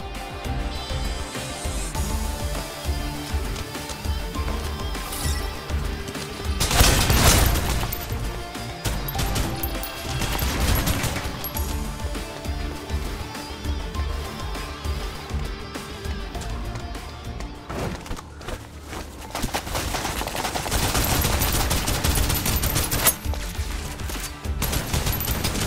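Sustained gunfire from the sci-fi shooter game Snowbreak, loud rapid bursts and overlapping volleys running continuously with several heavier peaks.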